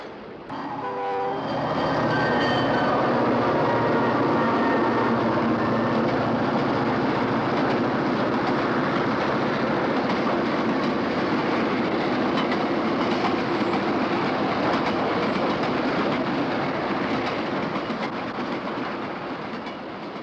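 Canadian National diesel locomotives leased to Conrail roll past. The loud engine rumble swells in within the first seconds, a horn tone sounds early, and the steady wheel clatter holds close and loud to the end.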